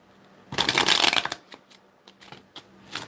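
Tarot cards are shuffled in a burst of dense riffling for about a second, followed by several softer, scattered flicks and taps as the deck settles, close to the microphone.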